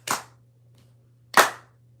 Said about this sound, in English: The clap activates the nerves in the hands for reflexology